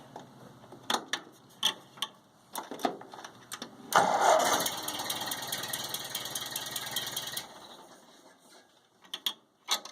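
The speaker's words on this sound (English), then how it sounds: "So the next step is to start the tractor" A Ford 8N farm tractor engine cranks and starts after a few scattered mechanical clicks, giving a loud rough burst of about four seconds before cutting off, followed by more sparse clicks.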